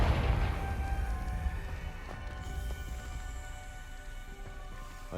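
A Confringo blasting spell in Hogwarts Legacy lands as one loud explosive boom at the start, then a dull rumbling tail fades over several seconds.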